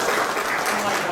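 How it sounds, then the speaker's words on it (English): A brief burst of audience applause, a steady wash of many hands clapping at even strength. "please give him a big applause"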